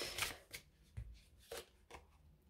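Tarot cards slide and riffle together in quick, close handling, a few soft bursts of shuffling with light taps between them and no voice.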